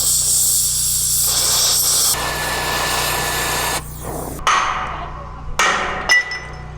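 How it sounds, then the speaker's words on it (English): Flame cutting torch working through a steel weld on a house build site in Panama: a loud steady roaring hiss that shifts in tone, then drops away into bursts and pops with short sharp clanks near the end. "It's hard to cut a weld. Doesn't really work too good with the flame."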